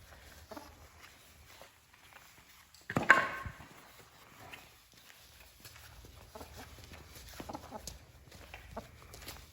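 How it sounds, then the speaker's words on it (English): A loose chicken indoors during spring garden chores, with a sharp burst of flapping or squawking near the start, followed by scattered soft clucks and shuffling movement throughout a quiet room. "Does that dang chicken keep getting in?"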